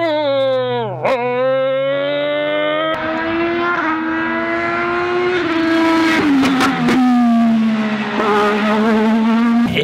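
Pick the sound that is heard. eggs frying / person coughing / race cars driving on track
race cars driving on track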